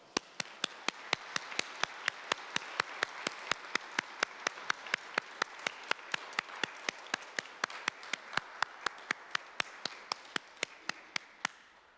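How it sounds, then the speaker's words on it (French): A congregation at Sunday mass claps in a steady, evenly spaced rhythm, sharp regular claps over a soft wash of scattered hand-clapping, moderately distant. "Acclamons la parole de Dieu. Applaudissons."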